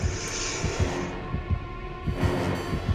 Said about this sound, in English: I got his heartbeat as though he's right behind me